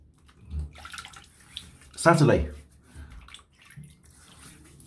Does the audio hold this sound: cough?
no